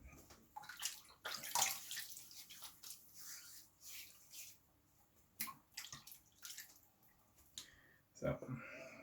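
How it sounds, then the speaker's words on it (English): Water is splashed and dripped into shaving soap lather, giving scattered wet clicks and splashes, some sharper and louder, with quiet gaps between them and faint talking. "I'm just adding a bit of water and trying to keep as much of the slickness from the soap as I can"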